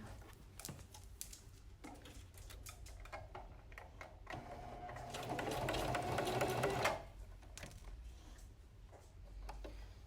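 A domestic sewing machine stitching a cloth face mask, preceded by clicks and handling; the motor runs in a steady buzzing burst for a couple of seconds, close and clear, then stops.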